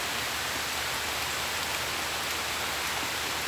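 Rain falls steadily outdoors near coastal water, a dense, even hiss with no breaks and no voices throughout.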